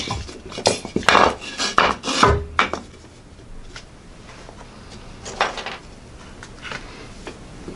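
A thin chopper knife, BCMW HT3 10V steel at 67 HRC, strikes hard into wire with several sharp metallic chops close up, followed by quieter scraping and rubbing of metal.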